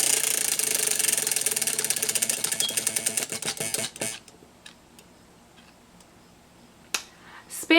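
A spinning prize wheel clicks in a rapid rattling stream that gradually slows and stops, followed by near silence with a couple of faint knocks at the end.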